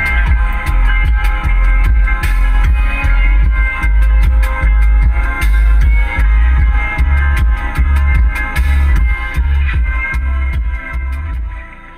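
Music playing through a ZK-MT21 subwoofer installed in a car cabin, with heavy, steady bass thumping under the full mix, loud and continuous before fading slightly at the end.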